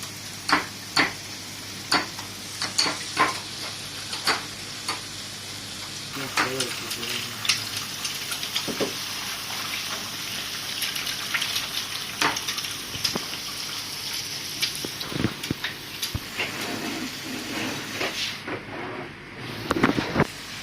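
Tomato, egg and onion are stirred together in a frying pan for an Arabic-style omelette, with repeated utensil scrapes and taps over a soft sizzle at close range, and a voice speaks at times.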